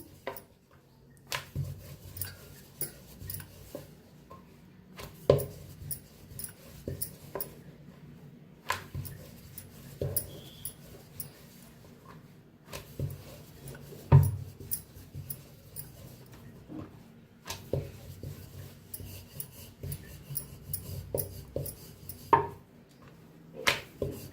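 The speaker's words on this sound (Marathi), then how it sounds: "फिरवून फिरवून दोन्ही साईडने लाटायचं." Sweet peanut-filled flatbread dough rolled out with a rolling pin on a board in a home kitchen, a run of soft, close, irregular thumps and light knocks repeating for the whole stretch with brief pauses between strokes.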